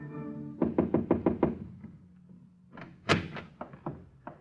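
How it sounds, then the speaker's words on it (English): Knuckles rap on a hotel suite door in an old-time radio drama: a quick run of five firm knocks, a pause, then a louder second series of sharper raps, close and dry. "one afternoon she moseyed up there and knocked on his door"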